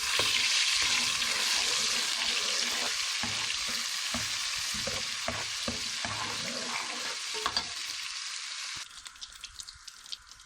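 Ginger garlic paste fries in hot oil for a lentil dal, giving a loud, close, continuous sizzle with stirring scrapes throughout. The sizzle eases and thins near the end.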